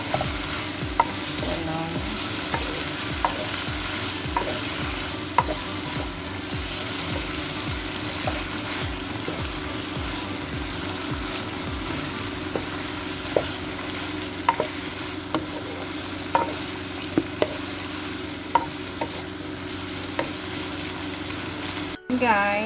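Carrots, green beans and celery are stir-fried in a pan for a pancit canton dish, giving a low steady sizzle. Repeated scraping strokes from the spatula run through it, and a voice speaks briefly near the end.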